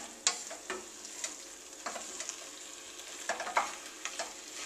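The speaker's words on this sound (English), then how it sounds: "give it a good stir through, so everything gets coated in the ricotta" A spoon stirs cauliflower and peas through a ricotta sauce in a warm pan, giving soft scraping and clicking with a faint sizzle underneath, close and steady.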